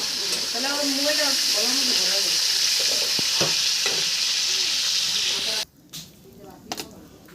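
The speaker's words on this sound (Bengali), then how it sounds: "এগুলোকে আমি বেশি ফ্রাই করে নিই, হালকা হালকা করে করেছি।" Prawns sizzle steadily in a pan of hot oil for a malai curry, a loud continuous frying hiss with a voice talking over it, then the sizzle drops away abruptly near the end, leaving a few faint clinks.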